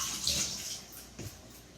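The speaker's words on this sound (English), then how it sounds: "get your hands a little bit wet with not hot water, with cool water." Cool water runs from a kitchen tap as hands are wet, a steady close hiss with a brief splash midway and no talking.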